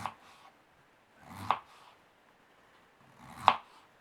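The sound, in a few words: slicing potatoes into rounds with knife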